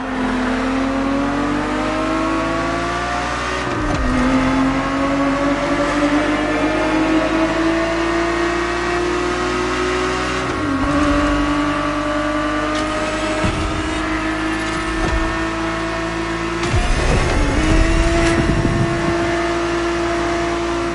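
Ferrari 365 GTB4 from the 1970s racing in The Crew Motorfest, its engine droning loud and steady, with the pitch climbing through each gear and dropping sharply at upshifts around four, eleven and seventeen seconds. No one speaks.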